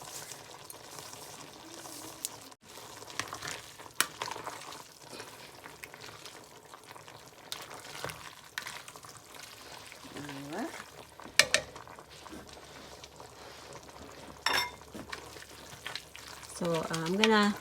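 Ground turkey ziti pasta with kale simmers in a single pot, a soft steady sizzle and bubbling running throughout, with occasional stirring scrapes and light clinks of utensils against the pot.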